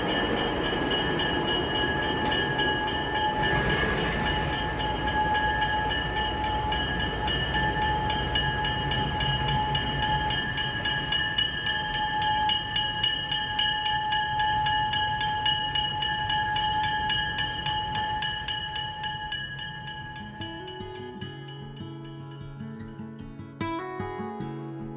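A Napa Valley Railroad train backs onto its passenger coaches with a loud, steady tonal drone and rumble. The sound fades slightly near the end, where clanks and knocks break in.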